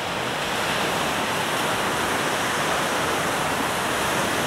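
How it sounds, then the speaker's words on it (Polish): Large Baltic Sea waves roll onto the beach at Stegna in winter, heard as a steady, loud, unbroken wash of surf and wind noise that fills the whole stretch, with no voices. "teraz czasami to duże fale przychodzą do końca do brzegu"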